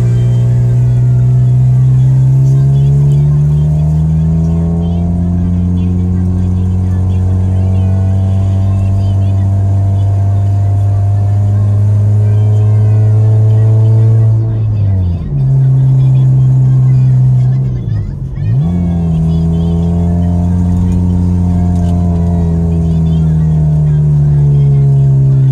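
Vehicle engine labouring loudly and steadily up a long, not very steep hill track toward Menoreh, its drone dipping twice as the driver shifts gears before settling again, close and continuous.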